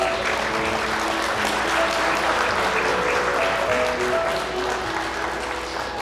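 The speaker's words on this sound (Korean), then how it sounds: "신랑 신부 마음을 담아 감사의 인사 박수 부탁드리겠습니다" Wedding guests in a hotel grand ballroom applaud the bride and groom during the ceremony, a sustained, full crowd of clapping at close, even loudness, with faint music tones running underneath.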